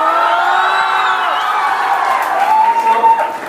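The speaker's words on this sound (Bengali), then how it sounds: "ফেস্টে দর্শন রোল আসলে কিন্তু হাত তালিটা যেন আরেকটু জোরে হয়" Loud crowd applause and cheering at a college welcome event, with sustained whoops and shouts riding over continuous clapping that swells toward the end.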